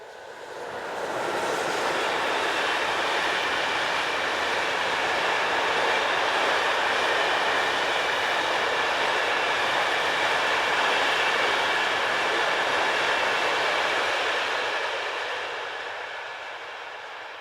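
Class 652 locomotive hauling a freight train of empty box wagons southbound: a sustained loud rumble and wheel rush that swells in, holds steady as the wagons pass close by, then fades slightly at the end.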